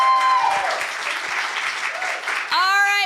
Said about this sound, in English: A big round of applause for the Arts Council of Princeton